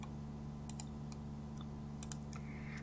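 Several light, scattered keystroke clicks on a computer keyboard as a number is entered, faint and close over a steady low electrical hum.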